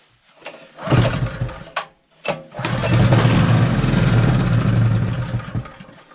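A small go-kart engine, primed with parts cleaner sprayed into the air filter, is pull-started: a couple of rough cranking pulls, then it catches and runs loud and buzzing for about three seconds before sputtering and dying away.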